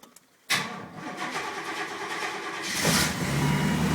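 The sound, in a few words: 1992 Chevrolet 454 SS truck engine cranking and starting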